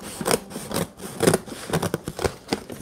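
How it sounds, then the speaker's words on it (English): Scissors snip and rub against paper while cutting open a mailed package of Pokémon cards, a series of close, quick crisp cutting strokes with short pauses between them. "Take my scissors here."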